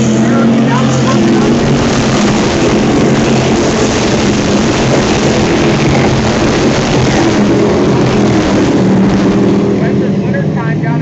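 Dirt track race cars roar steadily around the oval at Geneva, New York, a dense, loud wall of engine noise that never lets up, with an announcer talking over it throughout.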